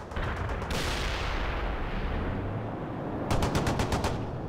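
Video game explosions and gunfire in a World in Conflict mission: a burst of rapid cracks, then a long rumbling detonation, then another rapid volley of sharp blasts, loud and close.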